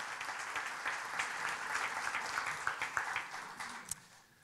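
Audience applause at an awards event, a steady wash of many hands clapping at moderate distance with a few sharper claps standing out near the end.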